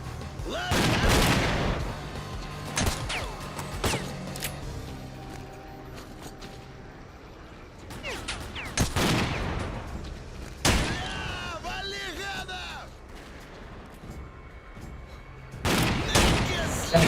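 Gunfire in the game S.T.A.L.K.E.R.: Clear Sky, a few loud, sharp bursts of shots scattered across the stretch with quieter gaps between them, while a voice talks over parts of it.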